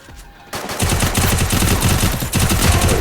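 Dense, continuous automatic gunfire from a battle royale video game, loud and close with rapid overlapping bursts starting abruptly after a quiet moment and continuing steadily to the end, with no talking.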